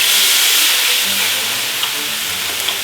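Red wine poured into a hot pan of beef cheeks and onions for deglazing, giving a loud, steady hiss and sizzle that fades slightly over a few seconds, with faint bubbling crackles near the end.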